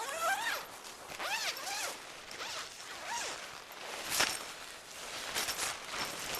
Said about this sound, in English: you're going to want to unzip the front door, which is the outside zipper